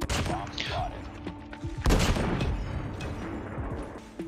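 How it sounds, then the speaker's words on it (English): Gunfire crackles in an online shooter match on a high-ping server, with several quick shots and bursts layered under game effects and faint talk. "Getting shot through walls."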